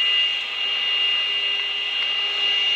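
A cordless car vacuum cleaner runs on its minimum setting, giving a steady, close, high-pitched whine with an even airy hiss that holds level throughout, no voices over it.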